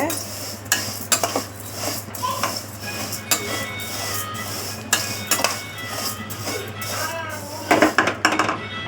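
Semiya vermicelli is roasted in a metal pan for a semiya javvarisi milk payasam, with repeated sharp clinks and scrapes of the spoon against the pan over a steady background hum.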